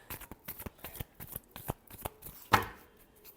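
A deck of tarot cards is riffled and cut in a quick series of crisp, papery flicks and slaps, close and alone, ending in one louder snap of the deck.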